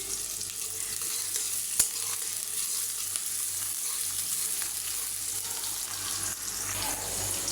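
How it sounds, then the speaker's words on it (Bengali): Chopped onion and green chili fry in a pan with ginger and garlic, giving a steady, close hiss of sizzling that runs continuously, with faint scraping from stirring and no voices. "পেঁয়াজটা ভাজা হয়ে গেছে"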